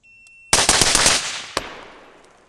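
Rapid AR-15 rifle shots at close range, a tight burst of about five loud cracks followed by one more, with echoing decay at an outdoor range.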